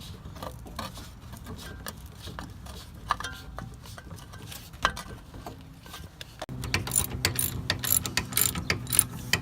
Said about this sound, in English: but it's a 19mm socket. So just start threading it.